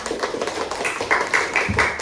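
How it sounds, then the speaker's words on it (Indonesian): Schoolchildren in a classroom clap for their classmates, a brisk, busy patter of hands heard close by that keeps up steadily for a couple of seconds. "Kita beri tepuk tangan"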